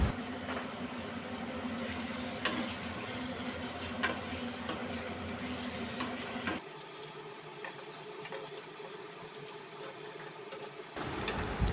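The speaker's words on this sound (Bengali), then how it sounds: "ওই তেলের মধ্যে একটু আলুটা ভালো করে ভেজে নেব।" Potato pieces with a little turmeric frying in oil for Bengali mutton dak bungalow, a soft continuous bubbling sizzle with small clicks, quieter after a cut midway, no talking.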